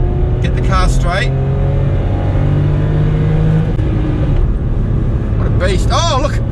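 A small Volkswagen Up's engine drones steadily as it accelerates on a wet race track, loud and close throughout, with a voice coming through briefly at the start and again at the end.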